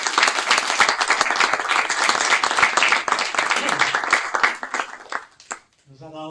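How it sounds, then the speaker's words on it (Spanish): Audience applause for a commissioner who has just given a lecture on education and the blue economy, a dense burst of many hands clapping that fades near the end as a voice begins. "un aplauso para nuestro comisario"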